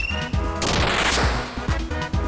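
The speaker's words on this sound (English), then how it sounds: "Big cannons!" Cannons fire in the video game Super Mario RPG in a rapid, loud barrage of booming blasts and crashes that overlap into a dense, rumbling stretch of in-game combat noise.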